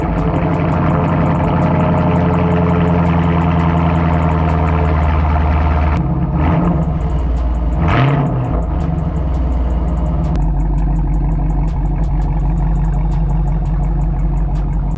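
A 2023 Chevrolet Camaro with an LT1 V8 and six-speed manual idles loudly and close by with a deep, steady burble, then is revved twice in quick succession before settling back to idle.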